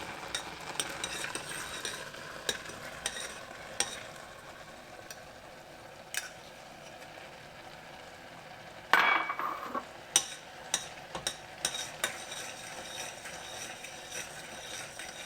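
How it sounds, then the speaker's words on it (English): Gajar ka halwa, grated carrot pudding, is stirred in ghee in a pan. Faint, scattered scraping strokes and light taps sound close by, with a louder cluster of clinks partway through and no talking. "Now we'll keep stirring until the moisture from the ghee is evaporated."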